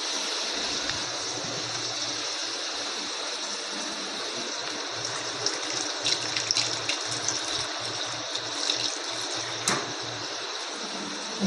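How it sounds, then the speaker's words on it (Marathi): Raw chicken being washed in water in a home kitchen, a steady running-water rush with small splashes and clinks near the end and no talk. "धुवून तर ठेवला होता, तरी पण मी पाण्यात घातला परत त्याला"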